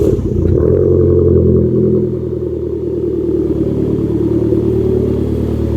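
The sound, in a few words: Alfa Romeo Mito 1.4 turbo Abarth exhaust at first start-up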